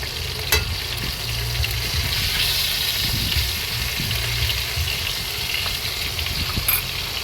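Leftover pieces of food frying in a pan of cooking oil, a steady close sizzle and crackle continuing throughout with occasional sharper pops and no talking.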